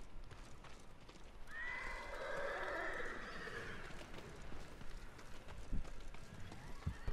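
Horses in the video game Ghost of Tsushima neighing and whinnying in a long, loud call across the middle of the stretch, with hoofbeats clopping through, a skittish mount near a battle site.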